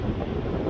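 Strong wind gusts roar during a high windstorm in Des Moines, Iowa, producing a dense, steady low rumble of buffeting air with no other sounds.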